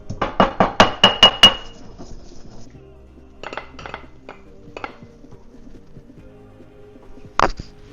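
A pestle strikes a mortar while grinding spices, a quick series of sharp, ringing pounds, followed by softer scraping clinks and one last knock, close up with no talking.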